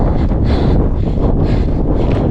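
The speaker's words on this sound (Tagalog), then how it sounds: "ang lakas ng hangin" Loud, roaring wind buffets the microphone continuously, with rumbling gusts swelling and fading throughout.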